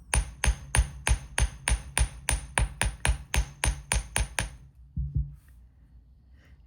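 Rapid, steady hammer taps flatten wire for wire-wrapped jewelry, about twenty sharp strikes close up before the blows stop and a faint, nearly silent pause follows.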